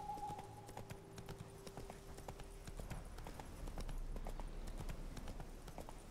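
Rhythmic clip-clop of horse hooves trotting steadily in the video game The Witcher 3, with a faint tone fading out early and a low rumble underneath.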